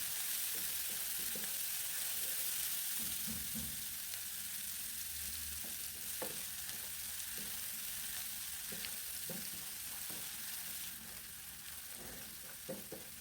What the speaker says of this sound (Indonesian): bumbu ini ditumis dulu sampai wangi